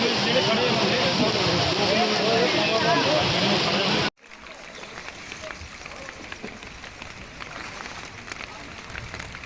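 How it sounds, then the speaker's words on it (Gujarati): Heavy rain falls in Srinagar near Dal Lake, a dense, loud, steady roar for about four seconds, then cuts abruptly to a quieter, lighter wash of rain with scattered patter for the rest. "મિત્રો અત્યારે શ્રીનગરમાં વરસાદ પડે છે બહુ"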